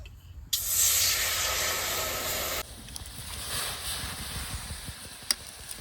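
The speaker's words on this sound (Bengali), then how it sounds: "কড়াইতে একটু জল দিয়ে দিই কলা মোচাটা সিদ্ধ করে নেব" Water poured into a hot wok for boiling banana flower bursts into a loud, steady steaming hiss for about two seconds, then settles into a softer sizzle with faint clicks, with no talking.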